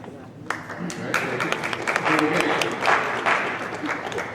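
Applause breaks out at a political debate in Canandaigua as the audience claps for candidate Tom Reed, sharp individual claps building into a fuller crowd round, with some talk mixed in.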